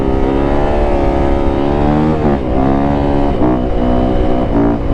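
Yamaha YZ450F dirt bike engine held high in a wheelie, roaring loud and close with a strained, steady tone that climbs in pitch through repeated gear shifts, with no talk.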